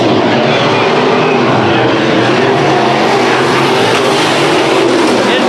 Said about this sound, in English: it might be on that rev limiter, popping real bad